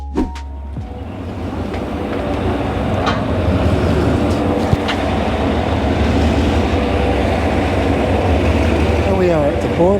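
A cross-border shuttle train from Thailand to Laos rumbles steadily with a low continuous roar and faint rattling of carriages, close by and loud throughout.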